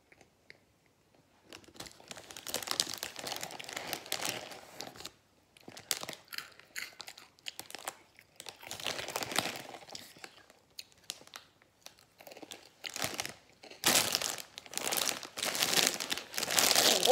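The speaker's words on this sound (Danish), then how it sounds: "Hvis man lige har brug for noget, der knaser og sådan noget saltet." Thin, salty, fries-like chips crunch and crinkle in close bursts of chewing and rustling, with quiet gaps between them and a louder crunch near the end.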